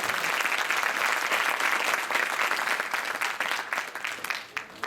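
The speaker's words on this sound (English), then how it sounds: "Can we give them another round of applause?" An audience applauds children who have just performed at a Mahasamadhi Day gathering in Oldham. The clapping is sustained and fairly close, then thins out and fades toward the end.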